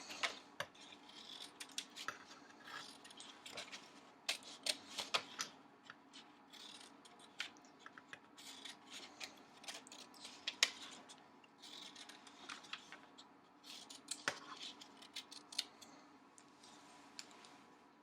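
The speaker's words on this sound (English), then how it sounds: "I want to go with my scissors and I want to cut those that I drew out" Scissors cutting squares out of paper, a quiet, close series of irregular crisp snips and clicks that repeats throughout with no voices.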